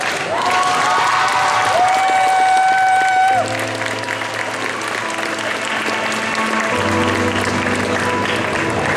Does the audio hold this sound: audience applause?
yes